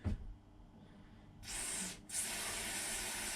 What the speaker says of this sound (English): Right, so let me just get some spray.